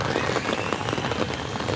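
Heavy rain pours down outdoors while people are out bathing in it, a loud, close, crackling patter of drops hitting surfaces that runs dense and unbroken throughout.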